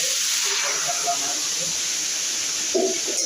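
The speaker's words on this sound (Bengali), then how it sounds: "ফুলকপি সাতলানো হচ্ছে" Cauliflower sizzling in a hot pan, a constant bright hiss with small crackles and pops, fairly quiet, with faint voices briefly underneath.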